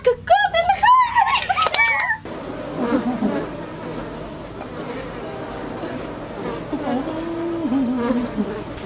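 A swarm of bees drones in a steady, fairly close buzz, with voices talking over it and a brief burst of louder chatter at the start.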